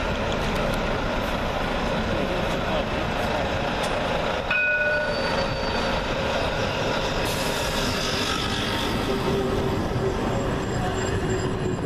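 A tram rumbling along its rails toward Britannia with a constant low roar, broken by brief high metallic squeals and tones as it rolls on.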